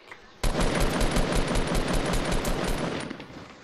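Rapid automatic gunfire in a video game bursts in loud and close after a brief quiet start, then keeps up a dense, continuous rattle of shots to the end.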